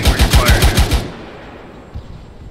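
Close, loud automatic gunfire rattles in a rapid burst of about eight shots in a military video game, then cuts off into quieter background noise with a faint distant shot.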